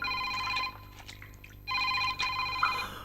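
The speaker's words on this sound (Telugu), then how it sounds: "ఉండు, నేను ఫోన్ అటెండ్ చేస్తాను." A telephone rings indoors in two trilling bursts separated by a short quiet gap, fairly loud and near, with no one speaking during the rings.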